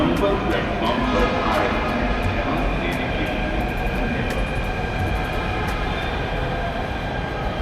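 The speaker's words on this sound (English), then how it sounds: "The Mansarovar bound metro is about to arrive on platform 2." A four-coach BEML-built Jaipur Metro train rolls into the platform, a sustained loud rumble with steady hum and scattered sharp clicks from the track, gradually easing toward the end, with people talking nearby.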